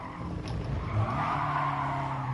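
Tires skid and squeal through a handbrake turn in a racing video game, a sustained smeared screech over the car's engine drone, loud and close with no talking.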